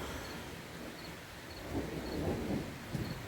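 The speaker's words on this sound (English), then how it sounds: "I can't believe I am sitting in the middle of the thunderstorm on my front porch" Thunder rolls during a thunderstorm, heard from a front porch: a steady wash of rain or wind noise, then a low, rumbling swell building midway and rolling on for over a second, with a sharper crack near the end.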